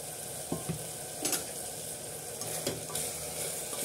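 Tomato and eggplant frying in a pan with spices give a steady, soft sizzle with a few louder stirring scrapes and clinks at intervals, close by and with no one talking.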